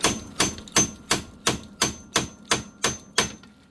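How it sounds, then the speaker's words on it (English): Hammer blows knocking a steering part loose on a 2018 CFMOTO Z-Force 1000, nine sharp metallic whacks in a steady, evenly spaced rhythm, loud and close with no talking. "just try it with a couple of whacks"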